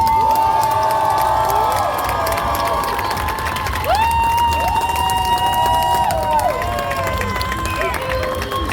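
A large festival crowd at a TV anime theme-song party cheers a singer, with loud sustained shouts and whoops over continuous clapping, the cheering rising and falling in long drawn-out waves.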